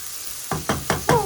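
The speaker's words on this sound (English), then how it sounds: "So I'm just frying up the veggies." Leftover vegetables for bubble and squeak hit a pan, four evenly spaced knocks or scrapes with a light sizzle underneath, close and fairly loud, with no talking.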